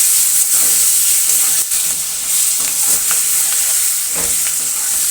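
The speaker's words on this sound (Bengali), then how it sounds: "জিরের গুঁড়ো, টমেটো আর লঙ্কা দিয়ে এই মশলাটা দিয়ে আমি একটু কষিয়ে নেব" Potatoes frying with cumin powder, tomato and chilli masala in a pan, giving a steady loud sizzle with scraping stir strokes throughout and no talking.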